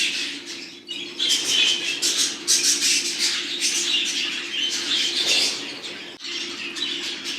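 Many budgerigars chirp and twitter continuously in a show aviary, a dense, lively chorus of high calls with occasional wing flutters, close and fairly loud throughout.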